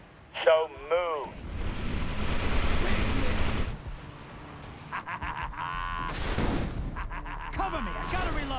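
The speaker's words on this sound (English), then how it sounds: "That's a lot of gunfire." Gunfire in the Defiance video game, with bursts of shots and explosive blasts over several seconds, mixed with game voices and effects.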